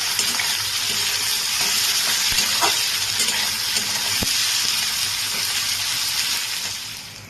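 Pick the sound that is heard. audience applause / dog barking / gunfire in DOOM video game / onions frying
onions frying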